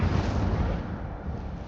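The Incendio fire spell goes off in a Hogwarts video game as a loud, roaring burst of flame that surges at once and slowly eases off.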